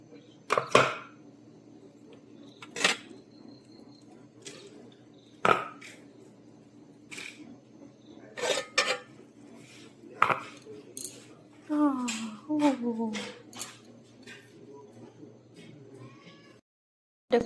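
A knife clicks and scrapes against metal steamer plates as idlis are pried out, giving sharp, irregular taps spread across the time, with a voice speaking in between and a short scraping run near the end.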